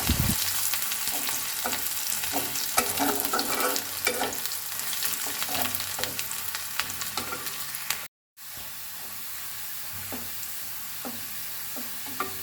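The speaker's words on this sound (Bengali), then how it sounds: "এর মধ্যে তারপরে আমি রসুন আর মরিচটা ভালো মতো ভেজে নিচ্ছি।" Garlic and chili fry in a wok with a loud, crackling sizzle close by, broken by regular scraping stirs. The sound cuts out for a moment, then the frying carries on steadily. No one speaks.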